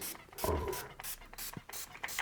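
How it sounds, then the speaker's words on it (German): Alcohol sprayed from a bottle onto a gauge 0 model railway waterfall and forest scene, several short hissing bursts in quick succession, close and fairly quiet. "Und jetzt sprühe ich das Ganze mal ein mit Alkohol."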